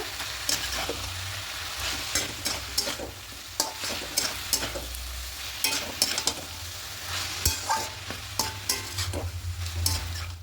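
Potatoes with bethua greens, green chilli and poppy seed paste being stirred in a pan, a soft sizzle broken by frequent scraping spoon strokes in an uneven rhythm, close and fairly quiet.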